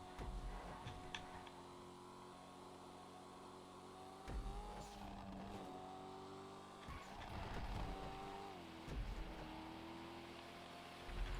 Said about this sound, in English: Oh, this car and the noises it makes.